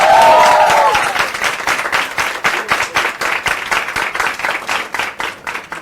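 Enthusiastic applause from an audience, dense clapping that rises and falls in waves, with a brief voice at the start.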